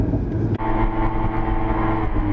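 A 2018 Audi RS3 engine idles in neutral with a low steady rumble, rising slightly in a mild rev, close and continuous.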